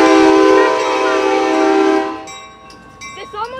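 Amtrak train passing close, a loud sustained multi-tone horn blast that cuts off after about two seconds, leaving rail rumble and brief higher squeals behind.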